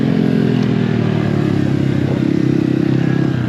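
A small mini bike engine runs at a fast, steady buzzing idle, close and loud, with a slight rattle and no change in pitch.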